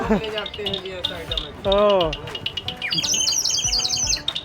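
Bright whistled chirps and warbling trills from a water-filled bird whistle imitating birdsong rise over a busy indoor exhibition background in Kochi with voices talking.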